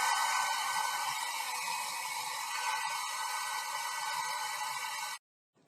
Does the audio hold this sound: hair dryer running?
yes